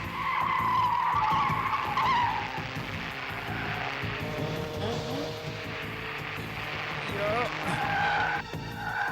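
Car tires squeal and skid loudly as a vehicle swings around in an action movie chase scene, a sustained screech with engine roar that lasts through the clip, with voices heard over it.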